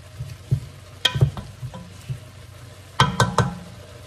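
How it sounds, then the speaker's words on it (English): Seasoning fries in a pan, with quiet sizzling and a few sharp scrapes and clatters of stirring, close by, in irregular bursts. "fry until I smell the aroma, which I do"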